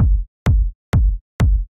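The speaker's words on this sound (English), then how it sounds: "A good fat techno kick, main room techno kick" A fat main room techno kick drum sample hits four times in steady succession, each a punchy deep thump with a brief click on top, loud and dry with silence between hits.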